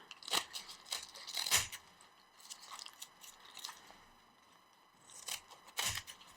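Scissors cut through stacked tissue paper: several crisp, papery snips and crunches come in short bursts with quiet gaps between them, close up and fairly soft, with no talking.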